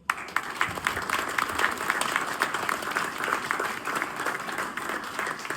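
At an annual champions' awards ceremony, an audience claps for the club's partners with moderate, steady applause in which individual sharp claps stand out, continuing evenly for several seconds.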